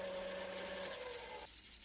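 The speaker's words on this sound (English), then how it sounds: "Now I give it a light sanding with 220 grit sandpaper" Sandpaper of 220 grit rubs by hand across a turned live-edge wood bowl, a close, steady scratchy hiss whose tone shifts partway through and ends in a softer rasp.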